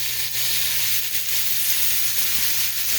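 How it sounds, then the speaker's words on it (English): Chopped mushrooms, celery and onion sizzle in a pan as they saute, a steady close crackling hiss with occasional soft stirring bumps. "So I'm going to saute this until it starts to get"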